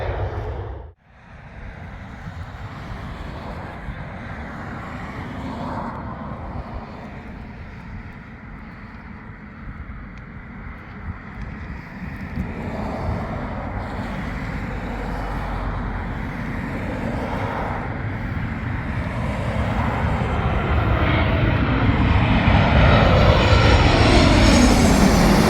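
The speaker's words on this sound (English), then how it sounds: "some planes in the background here, even though they are quite noisy" A continuous engine drone of aircraft rumbles throughout, growing louder toward the end as a plane passes overhead, with no voices.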